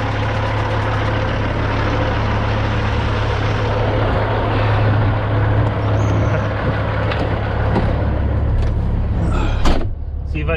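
A semi truck pulling out, with a low steady diesel rumble close by throughout, a hiss of air near the end, and someone talking over the engine.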